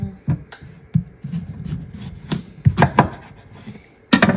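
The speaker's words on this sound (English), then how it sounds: "I cut off the bottom so that we have that flat surface to work with." A sharp knife slicing the bottom off a melon on a cutting board, several irregular thuds and scraping cuts, close and fairly loud with no talk.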